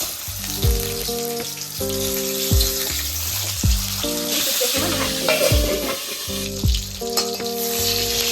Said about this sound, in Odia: ତେଲଟା ଗରମ ହେଇଗଲାଣି, ମୁଁ ଏଇଠି ମାଛ ମୁଣ୍ଡକୁ ଦେଇଦେବି।